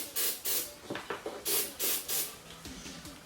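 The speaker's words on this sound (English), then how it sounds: "Spray our starting fluid right up in there." Several short, sharp hissing bursts of starting fluid from an aerosol can in quick succession, sprayed close by into a Yamaha Banshee engine, followed by fainter sputtering spray.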